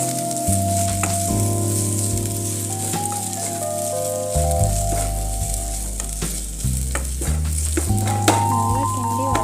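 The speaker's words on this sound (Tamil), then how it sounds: "நல்லா கிண்டி வதக்கி விட்டுக்கோங்க" Beans with crushed garlic sizzle steadily in a pan while being stirred, the frying continuing throughout. Loud tonal music plays over the cooking.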